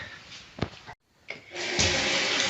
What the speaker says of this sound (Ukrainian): Вода біжить, це добре.